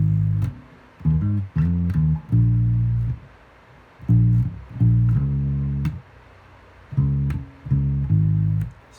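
Bass guitar plays a country lick: short groups of deep, punchy plucked notes in a repeating rhythm with brief gaps between phrases, close and unaccompanied.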